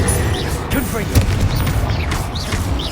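Confringo blast spell explosions in Hogwarts Legacy, with dull booms and crackling bursts layered over a busy combat din, a voice briefly audible amid the fighting.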